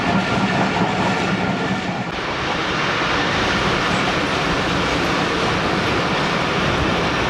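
Karakoram Express train running on rails on the way to Okara station, a loud continuous roar of wheels and carriages with rhythmic clatter, heard close from on board.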